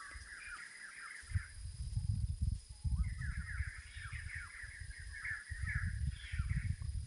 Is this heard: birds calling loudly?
yes